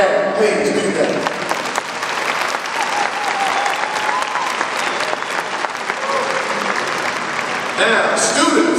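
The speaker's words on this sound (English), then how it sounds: "give a rousing applause to our teachers and our staff" Graduation audience in a school hall applauding teachers and staff, a dense, loud, sustained clapping that fills the room throughout, with scattered cheers and whoops rising near the end.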